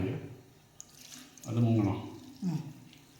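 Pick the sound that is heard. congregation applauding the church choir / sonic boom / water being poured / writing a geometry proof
water being poured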